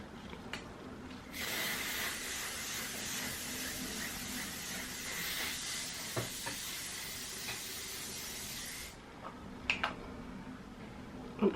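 Hairspray hisses onto freshly blow-dried hair in one steady, fairly quiet burst lasting about eight seconds, with a few faint handling clicks before and after.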